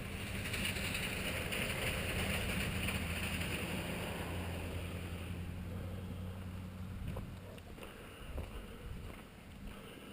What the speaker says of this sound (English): we got a vehicle coming down the road